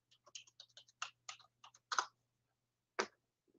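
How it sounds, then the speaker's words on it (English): Typing on a computer keyboard, a quick run of light, separate key clicks, then a pause and one firmer final tap, close and quiet in a silent room. "See what I'm doing? I'm typing."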